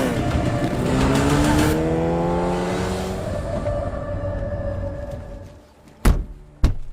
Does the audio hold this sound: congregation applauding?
no